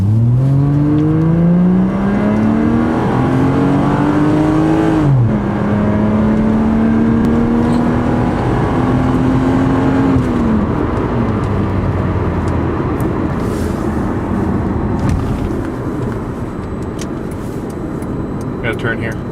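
A car accelerates hard from a standstill in a peel-out on a public road, its engine revving up through two gear changes with a rising, strained whine that stays loud and close throughout.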